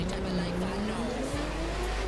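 A Porsche GT3 RS drives in The Crew 2 racing game, its engine note droning and rising steadily at close range with a faint tire squeal and no pause.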